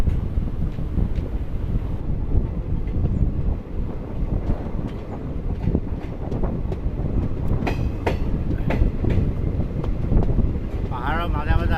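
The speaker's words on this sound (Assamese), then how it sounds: "পাহাৰৰ মাজে মাজে আহি আছোঁ ট্ৰেইনত।" A passenger train runs through hilly country on the Silchar to Lumding line, giving a loud, constant rumble and rattle with rhythmic clickety-clack and heavy wind buffeting across the microphone, with no talking.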